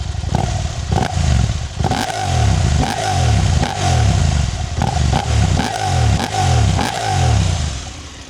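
A 2025 KTM 890 Adventure R motorcycle engine idles close by, with a steady loud rumble and a repeated rhythmic pulsing of throttle blips and clattery mechanical texture, and no talking.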